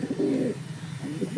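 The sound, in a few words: pigeons cooing in a loft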